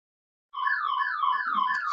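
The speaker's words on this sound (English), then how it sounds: "I tried to shut down this alarm" An electronic alarm bursts on abruptly and holds a steady warbling, pulsing tone, loud and close in a symposium room, with no talk over it.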